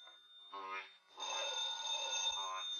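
A telephone rings in a vintage radio suspense drama, a steady bright electric ring heard under voices talking over it.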